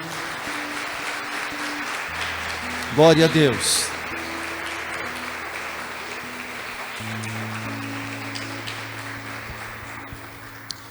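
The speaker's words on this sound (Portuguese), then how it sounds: "Se você crê nisso, aplauda o nome do Senhor." A church congregation applauds during a worship service, a soft, steady patter of clapping under sustained keyboard tones, briefly interrupted by a spoken exclamation.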